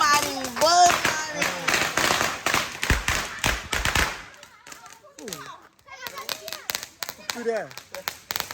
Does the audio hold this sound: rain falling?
no